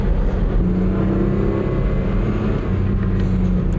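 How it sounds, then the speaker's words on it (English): A Buick Regal, a large family coupe with a small engine, runs a 0 to 100 km/h acceleration test; a loud, steady engine drone and road rumble fill the whole stretch without talk. "Let's see how the Regal fares in the 0 to 100 kilometers."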